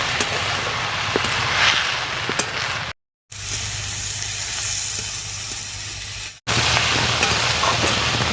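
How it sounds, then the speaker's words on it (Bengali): Boiled onion stalks stir-fried in a pan, a loud, steady close sizzle and hiss with occasional scraping from stirring, briefly cut to silence partway through, with no speech. "পেঁয়াজ কলিটাকে একটু নাড়াচাড়া করে ভেজে নেব।"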